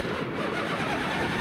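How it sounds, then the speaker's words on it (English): A Jabiru engine on a Zenith STOL CH 750 light airplane cranks and catches, a brief dense churning roar heard close and steady for a moment, with no voices. "We're going to get ready to start the engine."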